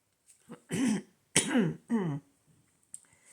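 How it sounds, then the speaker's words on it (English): Three loud, harsh coughs in quick succession up close, followed by a faint throat sound and quiet. "I'm about to cough."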